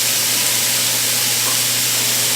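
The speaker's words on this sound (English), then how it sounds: "we're making sure our meat gets brown on each side, not overcrowding the pan" Beef for a salsa braise sears in a very hot pan, filling the sound with a dense, loud, continuous sizzle and a low steady hum beneath, close-up with no talk.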